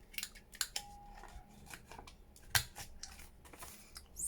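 A corner rounder punch bites through thick, shiny paper with a string of quiet, sharp clicks and crunchy snips, irregularly spaced, close by and with no voices.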